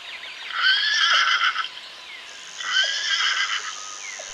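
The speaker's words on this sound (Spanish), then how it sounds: "Pony." A pony whinnies twice in close succession, each call a bright, wavering neigh of about a second, fairly near and clear with no voices.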